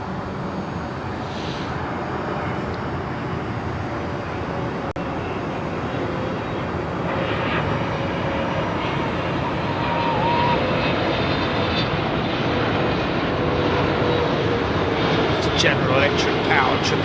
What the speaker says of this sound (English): I've got an engine startup. Sounds like it's at the engine test.